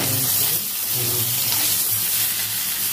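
Eggplant pieces fry in oil in a wok with salt and turmeric, a steady close hiss and sputter of hot oil with no voices over it.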